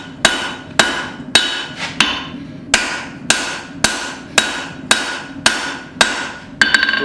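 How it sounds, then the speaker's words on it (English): Hammer blows forging a steel cleaver, struck half on and half off the edge of an anvil: about ten loud, ringing metallic strikes at a steady, slightly uneven pace, each with a short bright decay, close and alone. "Doing half on, half off blows on the edge of the anvil."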